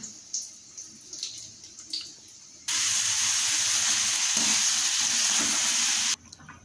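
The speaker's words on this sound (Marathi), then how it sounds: "इथे कढईमध्ये कांदा टाकलेला आहे परतायला" Onion frying in a kadhai: quiet stirring at first, then a sudden loud, steady sizzle for a few seconds that cuts off abruptly.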